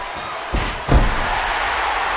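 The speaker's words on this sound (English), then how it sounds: "Homer slammed Torrance's leg right onto the steps." Two dull, heavy thuds land in quick succession as a wrestler's leg is slammed onto the ring steps during a ladder match in a wrestling video game, over steady crowd noise.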